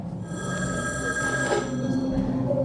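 A telephone bell rings loudly and steadily, a sustained electronic trilling tone repeating without pause, close up with no voices over it.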